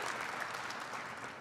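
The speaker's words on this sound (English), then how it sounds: "Yeah, I reckon we clap for that one too" Brief burst of audience applause at a large tech conference keynote, an even, moderately quiet wash of many hands clapping without voices.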